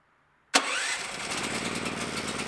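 A Stager FD 10000 generator engine, started by remote, catches abruptly after silence and settles straight into a loud, steady running drone, close by with no talking.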